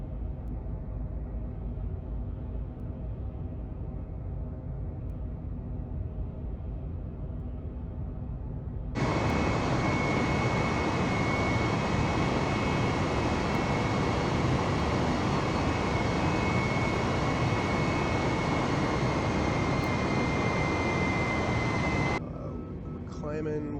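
Airbus A320 engines in Microsoft Flight Simulator 2020, a steady jet drone that jumps abruptly to a loud, dense takeoff roar for about thirteen seconds, then drops back to a softer hum during the climb.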